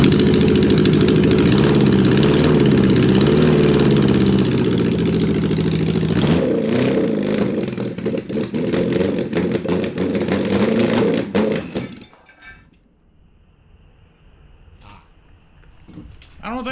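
A Suzuki four-wheeler with a swapped-in 750cc engine runs loud and close, its steady idle wavering. The engine drops away near the end, leaving quieter background sound.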